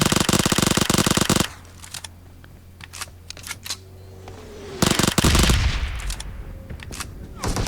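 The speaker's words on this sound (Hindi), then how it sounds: "मुझे एक बंदे की गोली चलाने की आवाज़ आती है सड़क की उस तरफ से।" Bursts of rapid gunfire in a video game crack at the start and again later from across a road, with scattered single shots and a low engine-like hum in between.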